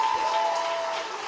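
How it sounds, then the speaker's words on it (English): Audience applause filling a city council chamber, a brief steady patter of many hands clapping with no voices above it. "if we could keep it to clapping, please"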